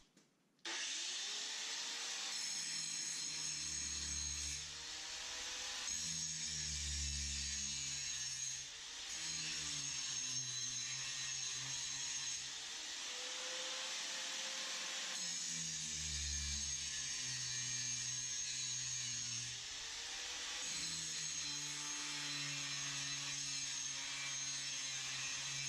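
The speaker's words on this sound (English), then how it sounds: "So I got a grinder," An angle grinder with a grinding wheel cuts down protruding wheel studs behind a wheel spacer, a loud sustained whine that dips and rises as the wheel bites the metal, running steadily throughout.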